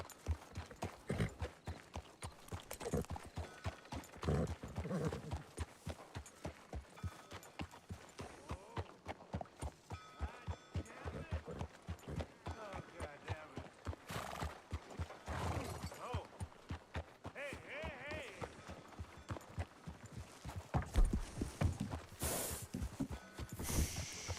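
Steady clip-clop of horse hooves walking at an even pace in the video game Ghost of 1898, with occasional faint voices and background game sounds mixed in.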